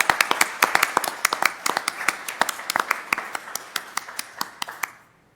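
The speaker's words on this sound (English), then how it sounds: "Let's give Sharon a big round of applause" A small group at a school board meeting claps, the distinct individual hand claps coming in a quick irregular patter close by before tapering off and stopping just before the end.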